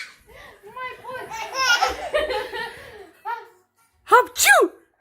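A sneeze bursts out, followed by a baby's giggling and belly laughter, with adult voices mixed in and another quick sneeze-and-laugh sequence near the end.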